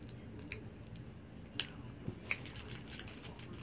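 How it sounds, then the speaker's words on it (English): Scissors cutting open a toy trading card pack, a few sharp, close snips and clicks spaced irregularly over a quiet room background. "Scissors."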